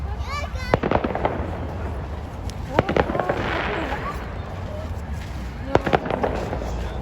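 Distant fireworks pop and crackle in scattered bursts over a busy outdoor crowd murmur, with a few sharper bangs standing out.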